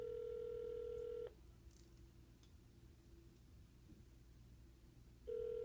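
A follow-up phone call ringing out: a steady electronic ringback tone sounds for about a second, falls silent for several seconds, then starts again, heard faintly through the line with no talking.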